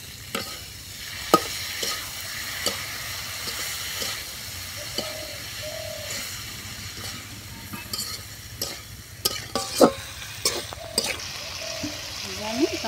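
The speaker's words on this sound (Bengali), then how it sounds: "রামধন ভাজি সবজিগুলো ভেজে নিচ্ছি।" Vegetables frying and being stirred in a pan with spices, a steady low sizzle broken by repeated scraping clicks of the spoon, with faint talk in the background.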